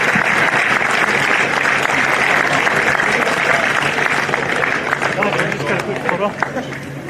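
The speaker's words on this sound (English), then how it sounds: "Another round of applause for the match officials" At an NPL 2 NSW football grand final presentation, spectators clap continuously for the match officials receiving their medals, a loud sustained wash of applause with crowd chatter underneath that thins slightly toward the end.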